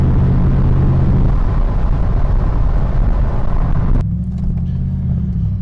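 2016 Morgan Aero 8 Roadster engine idles with a deep steady rumble and throaty purr, loud and close, its tone settling lower and smoother near the end.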